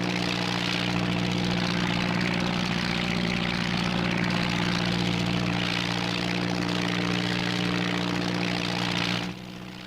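Airco DH.2 WW1 biplane engine droning in level flight in the IL-2 1946 flight game, a loud, steady propeller hum with no let-up that drops off abruptly just before the end.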